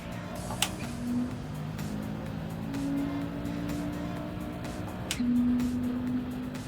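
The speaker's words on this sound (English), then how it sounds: "Nice 4-wheel drift." In Gran Turismo 7, a racing car holds a four-wheel drift with a steady engine drone and sustained tire squeal that rises and swells. A few sharp clicks sit over the continuous, fairly loud vehicle noise.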